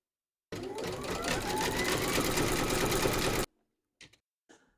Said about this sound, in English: pop your hoop into your machine and stitch round number 4, and that's going to zigzag along here and join these two segments together